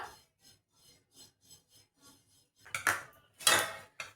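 Fennel seeds dry-roasting in a pan, with soft, scattered scraping and rustling that builds into a few louder, rasping stirs of the seeds against the metal near the end.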